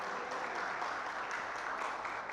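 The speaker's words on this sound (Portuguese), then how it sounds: "Vamos aplaudir a Jesus" A church congregation applauds during a family worship service, giving a steady, fairly soft wash of clapping for a couple of seconds.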